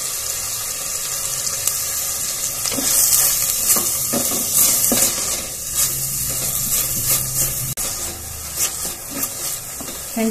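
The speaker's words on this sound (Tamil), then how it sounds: "வெங்காயம் வந்து நல்லா வதங்குற வரைக்கும்" Onion sautéing in a pan with curry leaves sizzles and crackles steadily, with occasional stirring scrapes and a faint watery hiss, fairly close and without talk.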